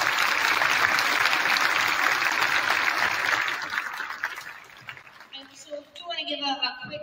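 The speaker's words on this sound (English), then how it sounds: "can you just join me in a big round of applause for all of us?" A school audience gives a sustained round of applause at a middle school cabaret concert, loud and dense for several seconds before thinning out as a voice begins talking near the end.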